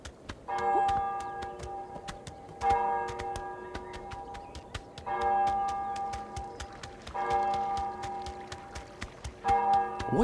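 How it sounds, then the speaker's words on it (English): Bells toll from a church tower in Untitled Goose Game, several struck tones ringing out in slow repeated groups over a quiet ambient game background, each stroke decaying before the next. "You might have noticed the bells tolling as you're going about your business"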